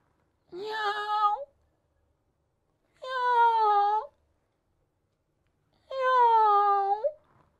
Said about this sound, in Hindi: बिल्ली। आवाज से पहचान लिया बिल्ली